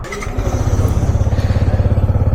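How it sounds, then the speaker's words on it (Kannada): A motorcycle on a solo ride is cold started close by. After a brief cranking clatter, the engine catches and settles into a loud, steady, rhythmic idle thump. "ಫಸ್ಟು ಗಾಡಿ ಒಂದು ಕೋಲ್ಡ್ ಸ್ಟಾರ್ಟ್ ಮಾಡಿಬಿಡೋಣ"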